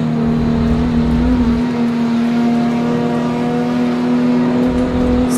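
A race car in a video game holds a loud, steady engine drone at high revs, a sustained whine that continues unbroken throughout with no talking.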